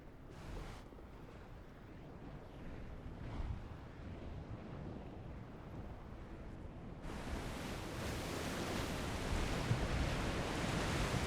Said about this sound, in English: Why does it sound like there's like a waterfall or something next to me?